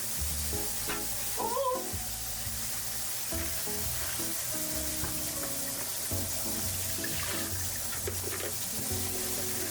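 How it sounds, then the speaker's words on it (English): An egg sizzles in a frying pan, a steady frying hiss under kitchen clatter and running water. "What was that sound? it was the egg."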